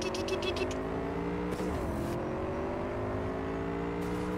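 A Toyota Supra engine revs in the video game Cyberpunk 2077, giving a steady synthetic drone with a brief whooshing pass in the middle, heard over game background sound.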